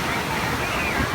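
Big Kahuna waves surge through the Big Surf wave pool at Kentucky Kingdom, a loud, steady, broadband rush of churning water that fills the whole brief moment without pause.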